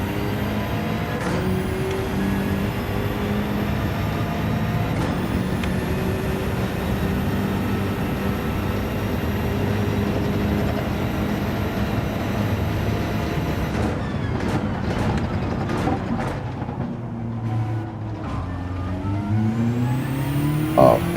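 A race car in Gran Turismo 7 brakes hard, its loud, steady engine roar sliding through pitch changes as it slows, with sharp bursts of mechanical noise near the end.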